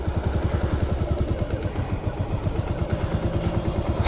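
A Yamaha SR400 single-cylinder motorcycle engine thumps in a steady, rapid pulsing beat while being ridden, loud and close with a rough clattering edge, no voices.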